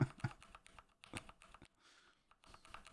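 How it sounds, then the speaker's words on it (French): Fast typing on a mechanical gaming keyboard with linear Kailh Red switches, a close run of soft, smooth keystrokes with no clicky snap, some heavier bottom-outs at the start and a brief lull midway. "On est sur du switch mécanique Kailh Red, donc il n'y a pas de cliquetis, hein, c'est très fluide"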